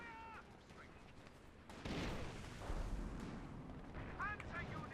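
Airburst artillery fire in Company of Heroes 2 rumbles as a broad, loud burst of explosions from about two seconds on, after quieter battlefield noise, with brief tonal chirps at the start and end.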